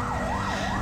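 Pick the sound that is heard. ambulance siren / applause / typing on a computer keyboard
ambulance siren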